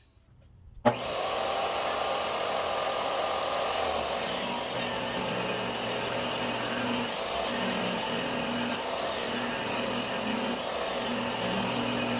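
A power saw starts abruptly and runs steadily, a loud continuous grinding whine cutting metal studs to length with no pauses.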